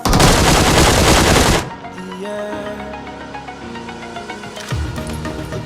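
Rapid automatic gunfire from a PUBG match rattles loud and close for about a second and a half, then stops sharply, and a musical passage plays on after.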